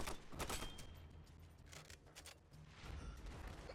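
Gunfire in Army of Two: The Devil's Cartel, a faint, distant sequence of shots and booming impacts in irregular bursts, heard alone without voices.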